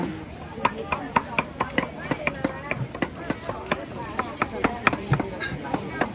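A knife chops food for tom saep soup at a busy open-air market stall, with fast, steady, crisp strikes on a board, close by, while people talk and the market murmurs around it.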